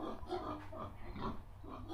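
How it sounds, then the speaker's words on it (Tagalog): Pigs on a farm grunting and snuffling in a quick, irregular series of low oinks, close by and fairly soft. "Silipin natin yung mga baboy ng kapatid ko, guys."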